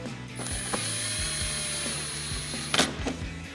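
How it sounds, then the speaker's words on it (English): A power driver runs an 8mm screw into the front fender well of a RAM 2500 truck, a steady whirring buzz with clicking ratchet bursts and a few knocks near the end, close and alone. "Now we'll get our first screw in place on our fender well."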